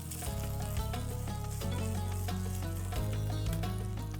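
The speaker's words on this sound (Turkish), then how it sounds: "Bu arada kavurmaya devam ediyorum." Food sizzles in a hot pot while Divriği pilaf is being sautéed, with a steady crackling hiss, occasional stirring clinks, and a low hum in the background.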